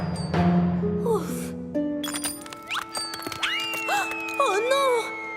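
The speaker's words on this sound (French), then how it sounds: "La cloche de Percy!" Percy's bell ringing in a Thomas & Friends cartoon, bright chiming tones among cartoon sound effects and music, with voices heard talking.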